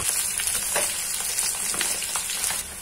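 Potatoes shallow frying in oil in a pan for dum aloo, a steady close crackling sizzle with small bursts of spitting throughout, no voices.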